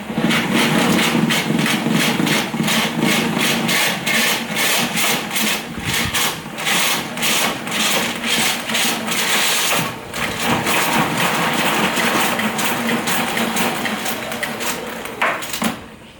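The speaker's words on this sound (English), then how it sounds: "We're going to wind this whole reel back in." A garden hose reel winds its hose back in, making a loud, rhythmic ratcheting rasp with rapid repeated clicks that carries on steadily for over fifteen seconds, with no talking.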